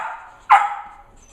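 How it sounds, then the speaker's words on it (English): A puppy lets out a single sharp, loud bark midway, with a fainter whine-like tone trailing before and after, heard indoors in the background. "puppy barking in the background"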